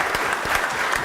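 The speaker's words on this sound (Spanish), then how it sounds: "Un aplauso para los expositores" A short burst of audience applause for the speakers at a conference on port system development, steady clapping with a few sharper individual claps.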